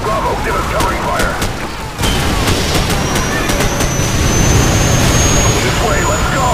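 Sustained covering gunfire in the video game Call of Duty 4: a rapid, dense rattle of shots with sharp cracks, loud and close, mixed with a roaring jet-like engine drone and battlefield shouting.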